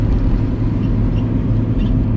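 A VW T4 high top van with a 2.5 engine driving on the road, heard from inside the cab as a loud, steady low engine and road rumble with no talk.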